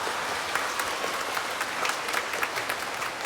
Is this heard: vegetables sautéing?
no